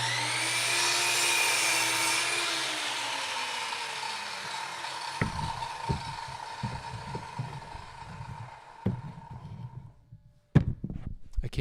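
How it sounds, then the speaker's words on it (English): A miter saw running as wood is cut, a loud whining drone that spins down and fades, followed by scattered knocks and clatter of wood being handled nearby. "Do you hear the miter saw at all?"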